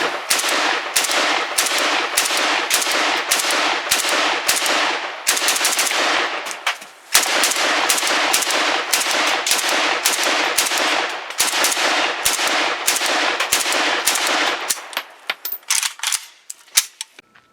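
Bulgarian SLR100H AK-47 rifle firing in rapid, sharp bursts, loud and close, with short pauses between strings of shots and a few scattered single shots toward the end.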